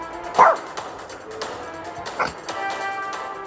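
A dog barks a few times, sharp and close, with short yips and whimpers between the barks and light tapping in the background, during a cooking competition.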